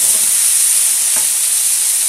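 Beef and chicken browning in a stir-fry pan, a loud, close, unbroken hissing sizzle with no pauses and no voices.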